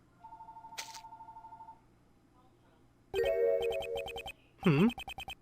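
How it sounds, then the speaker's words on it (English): In the Ace Attorney Investigations video game, a telephone rings in short electronic bursts, then loud repeated ringtone pulses follow, mixed with in-game blips and chimes during a flight. "Why is the phone goddamn ringing?"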